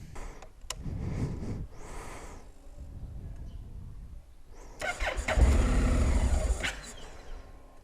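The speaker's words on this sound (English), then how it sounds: "so you can have some misfire at your first start" A 2019 Honda NC750X DCT motorcycle, running on low-octane gasoline, cranks and fires with a misfire on its first start, then restarts cleanly and settles into a close, loud idle with no talking.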